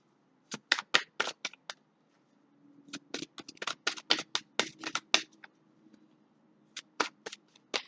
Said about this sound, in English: I just want to give this one more shuffle. The cards are a bit sticky.